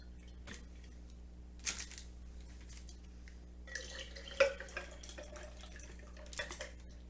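Liquid drips and trickles in a few soft, intermittent splashes as it is drained from a home-canned whole chicken, quiet and close with no talk.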